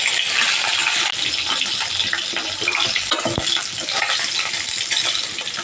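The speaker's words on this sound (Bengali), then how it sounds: "মাছের মাথাগুলো ভালো করে ভেজে নিয়েছি, এরকম লাল লাল করে মাথাগুলো এবার তুলে নিচ্ছি" Fish heads fried in oil until reddish are lifted from the pan, giving a steady bright sizzle with scraping and clinking of a utensil against the pan, close and continuous, no voices.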